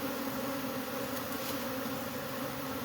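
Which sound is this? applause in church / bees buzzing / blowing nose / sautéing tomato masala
bees buzzing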